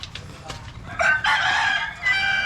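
Backyard chickens kept and cared for on a small poultry farm, clucking with a rooster crowing over them, loud and close, in bursts lasting a couple of seconds against a low murmur.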